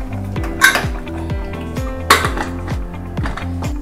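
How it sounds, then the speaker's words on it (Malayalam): Metal clinks and clanks from a lid being set on a pot of Kerala-style chicken curry, two sharp knocks standing out over a steady background hum. "ഇനി നമുക്കിത് അടച്ച് വെക്കാം."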